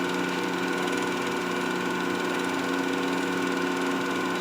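A lathe tool scrapes an acrylic pen blank, a loud, steady, continuous whirring grind that holds unchanged throughout with no voices.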